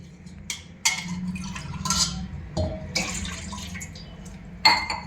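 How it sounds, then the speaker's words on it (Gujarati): Water is poured into a kadai pan to boil tomatoes and chillies, heard as short splashing bursts with a trickling pour and metallic clinks, close up over a low steady hum. "તો આપણે કડાઈમાં 2 ગ્લાસ પાણી મૂકી દઈશું."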